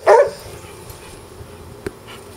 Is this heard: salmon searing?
no